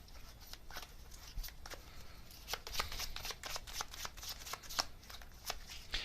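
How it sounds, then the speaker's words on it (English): Tarot cards are shuffled and drawn, a rapid run of crisp riffling flutters and soft card slaps repeating close by, fairly quiet, with no talk over them. "so let me get another card here"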